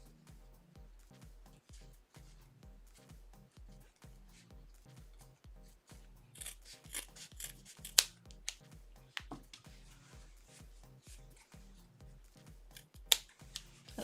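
Scissors trim fabric for a diaper pod tote during a home sewing session, giving a faint, steady run of regular snipping clicks with a few sharper snaps partway through.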